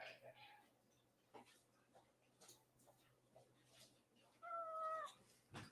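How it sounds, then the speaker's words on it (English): A cat meows loudly near the microphone toward the end, a clear rising cry after quieter sounds and faint voices in a room. "I know you guys can hear that meowing from a mile away."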